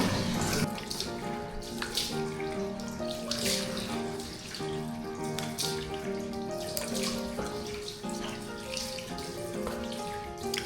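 Running tap water pours steadily into a sink as face scrub is rinsed off, a continuous close splashing stream with uneven surges, under soft background music and no speech.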